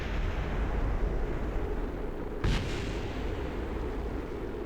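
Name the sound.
re-entry explosions in video game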